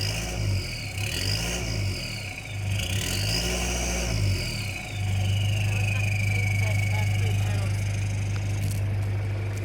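A 1996 Toyota Hilux Surf KZN185 with a 1KZ-TE diesel and a Fujitsubo exhaust revs up and settles in several rising and falling blips, then holds a steady, loud, nearby drone, with people talking faintly.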